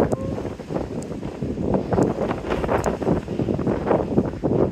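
Wind gusting across a waterfront park in Squamish, Canada, a steady, rough rumble buffeting the microphone throughout with no pauses, loud and close.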